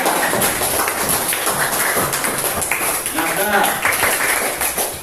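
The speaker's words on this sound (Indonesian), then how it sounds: "tepuk tangan dulu kita semua" Classroom of students clapping their hands together, busy overlapping claps mixed with talking voices throughout.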